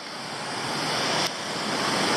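Waterfall dropping into a cliff-lined gorge at Black Glen Falls, Tasmania, heard close as a steady, loud, unbroken rushing roar.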